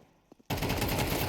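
Rapid gunfire in a Counter-Strike 2 competitive match, a sudden burst of loud shots after a couple of faint taps, continuing in a dense rattle to the end.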